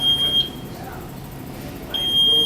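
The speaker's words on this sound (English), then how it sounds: "it's beeping to let people know that you're backing up" A VOCiC D51 Explorer-Swift four-wheel mobility scooter's reverse warning beeper sounds two high, thin electronic beeps as it backs up, with low motor and background noise between them.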